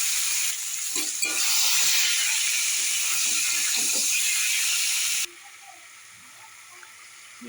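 Two bay leaves, dried red chillies and five-spice seeds hit hot oil while pickling raw mangoes, a loud close hissing sizzle that crackles for about five seconds, then cuts to a much quieter simmer.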